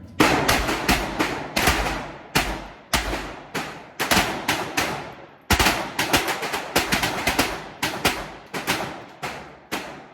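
Gunshots at an outdoor range during a five-round string, loud sharp reports in uneven bursts from several shooters firing side by side, each crack decaying quickly, with no talk.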